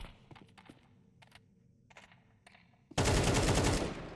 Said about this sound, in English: Some covering fire as well, just to make VP worry.